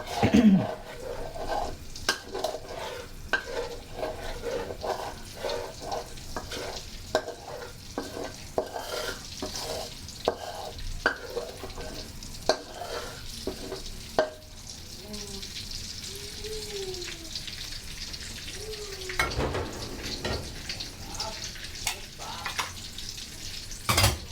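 Shrimp stir-fried in garlic-infused oil sizzles steadily in a pan. A utensil scrapes and clinks in quick, repeated strokes, close up, with a faint voice at moments.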